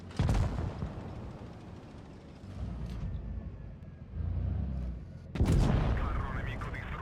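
Tank cannon fire in World of Tanks Blitz from a T-32, with two heavy booming shots separated by a few seconds, each followed by rumbling engine and battle noise at moderate volume, with a voice talking briefly.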